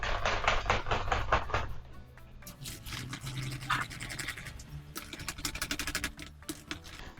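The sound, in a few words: mixing degue preparation with homemade yogurt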